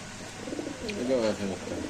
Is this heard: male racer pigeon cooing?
yes